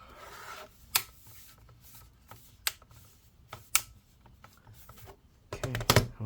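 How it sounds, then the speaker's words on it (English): An Acer Predator Helios 300 laptop's bottom cover being pressed back into place, several sharp separate snaps and clicks spread irregularly, ending in a louder cluster of clatter, close up with no talk. "Click everything into place."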